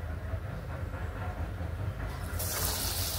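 Steady hissing sizzle of batter-coated potato vadas frying in hot oil in an iron wok, continuous and close, swelling louder near the end.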